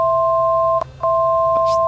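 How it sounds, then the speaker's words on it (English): Steady electronic test tones come from an Air Manager autopilot on a Bonanza analog panel. A loud, close two-note tone holds, breaks off briefly near the middle, then resumes, with a soft click near the end. "Those tones you can hear are just the autopilot test sequence I've built into that Air Manager autopilot."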